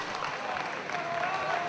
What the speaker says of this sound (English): a big round of applause for both of these pinnacle professional warriors